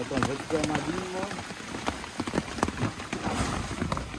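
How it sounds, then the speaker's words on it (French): Heavy rain patters and drips onto a surface in scattered taps at a jungle bivouac in the French Guiana Amazon while a person talks quietly over it. "Mais là, il pleut tellement, tellement, tellement."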